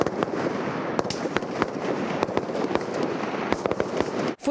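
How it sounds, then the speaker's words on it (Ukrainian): Sustained gunfire at a military training ground, with rapid, irregular sharp cracks over a continuous rumbling roar, loud and unbroken throughout. "На полігоні не стихає стрілянина."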